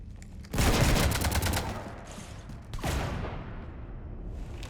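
Rapid gunfire rakes a ship in Mass Effect 3, a loud burst of repeated shots with a second volley following, heard alone with no talk.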